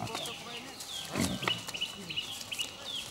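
Pigs tied to sacred stones at dawn in Vanuatu, grunting and squealing in short bursts across an outdoor scene, with faint chatter and bird calls in the background.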